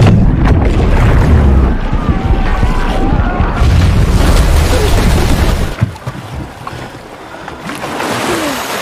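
A loud explosion-like boom and rumble fills the first half, followed by debris and splashing noises that fade into a quieter churning background.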